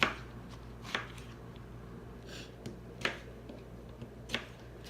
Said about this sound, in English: We're just going to remove the end, that's trash, and then just kind of cut it in 4s